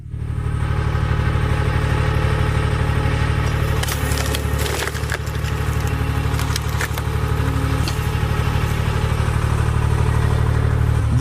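Large log splitter driving its wedge through massive three-foot-wide tree trunks, a steady loud hydraulic engine drone with cracking and splintering wood bursts around the middle, continuous and close throughout.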